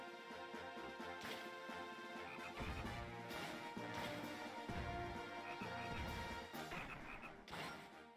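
Frogs croak in The Legend of Zelda: Phantom Hourglass, mixed into busy game music with loud smashing hits throughout.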